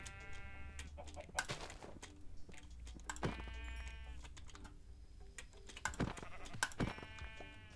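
Sheep in Minecraft bleat several times in short separate calls, close and clear over a quiet game background, with no speech.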